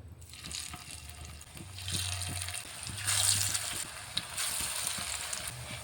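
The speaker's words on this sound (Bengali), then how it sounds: "তেলটা গরম হয়ে গিয়েছে এবারে আমি চপের আকারে ভেজে নেব" Potato and lentil chops fry in hot oil, with a steady close sizzle that swells as each piece goes in, plus soft bumps and scrapes, and no voices.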